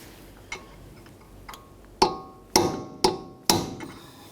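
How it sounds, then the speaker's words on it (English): Hammer strikes on a punch staking the front axle nut of a 2003-2007 Honda Accord into its slot: a few light taps, then four sharp, ringing metallic blows at a steady rhythm, close up. "We have to use a hammer and punch and drive the very edge of the nut down into that slot."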